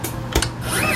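A cutting machine slicing through turquoise suede matting, a steady close mechanical whir and scrape with a brief sharp click partway through.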